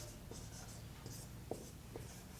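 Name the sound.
writing during a math lecture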